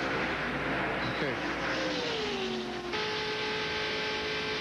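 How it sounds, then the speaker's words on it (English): The No. 4 stock car in the 1995 Winston Select 500 roars past the broadcast booth, its engine pitch sweeping downward as it passes, over a constant wash of other race engines and crowd noise. "we've been listening to that four car come by the booth here"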